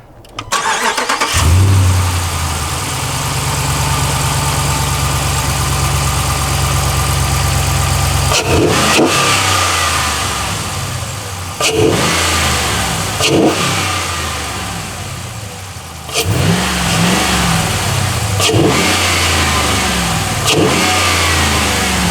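A Ram 1500 pickup truck engine with a cold air intake cranks and fires up, settles into a rumbling idle, then revs sharply several times with loud roaring bursts.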